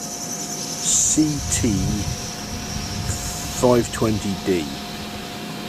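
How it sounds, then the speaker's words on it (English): A small air compressor runs with a steady mechanical hum and a faint constant whine, while someone talks over it close by. "So I got my little compressor out"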